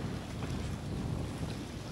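Strong wind buffets the area around moored yachts rocking in a big swell, with a steady, loud roar and low surging wash of waves running throughout; no voices.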